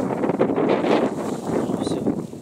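Strong wind gusts across an open village yard, roaring and buffeting the microphone in uneven surges, loud and close throughout, with no voices over it.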